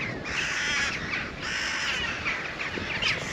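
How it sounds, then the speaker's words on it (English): Crows cawing loudly overhead in repeated harsh calls, several birds close by, with no one speaking. "I'm being followed by crows."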